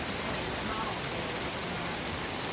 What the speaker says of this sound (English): Yep, we're getting hail on the cars.